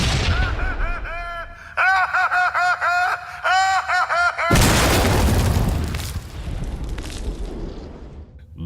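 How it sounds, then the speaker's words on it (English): Anti-tank rifle firing in an animated parody, one enormous booming blast following rhythmic staccato shouting, then a long rumbling, crackling decay with faint debris. "Oh, fuck, that's an anti-tank rifle!"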